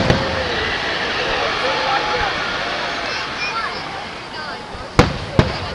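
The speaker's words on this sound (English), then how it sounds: "And the fireworks have begun!" Fireworks at a pyrotechnics display crackle and hiss steadily with faint whistling streaks, ending with two sharp, loud bangs close together, while people talk over the noise.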